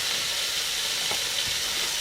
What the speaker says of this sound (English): So there's the bacon cooking.